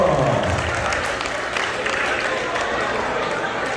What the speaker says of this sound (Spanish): fuerte el aplauso, por favor, para las mujeres